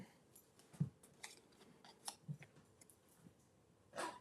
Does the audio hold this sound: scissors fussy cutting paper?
yes